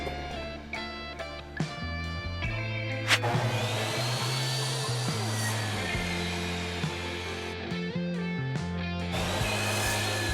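Wood pieces are cut for a small woodworking project by a power saw, its motor whining steadily with a shifting pitch as it bites into the wood, loud and close throughout with brief bumps and no talking.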